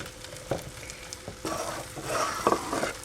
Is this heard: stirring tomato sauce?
yes